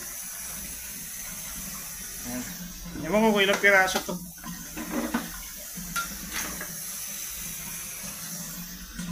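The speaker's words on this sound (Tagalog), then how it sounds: "Kaya babad natin sa tubig." Freshly caught live crabs and squid are soaked in water, with running, splashing water throughout and a brief burst of sloshing in the middle while a person talks.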